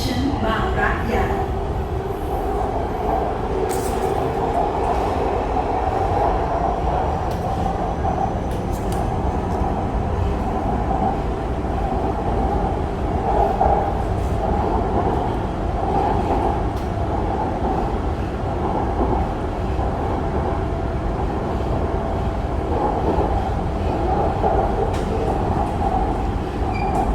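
A Bangkok Purple Line MRT metro train running between stations, with a loud, continuous interior rumble, whine and wheel noise throughout and faint squeals now and then.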